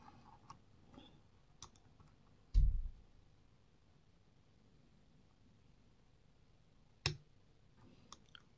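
Pins of a Medeco M3 six-pin lock being picked give faint, sparse metallic ticks, with two sharper, louder clicks standing out against a quiet background.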